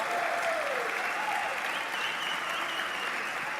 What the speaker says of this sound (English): Clap from the audience as MGB walks past them.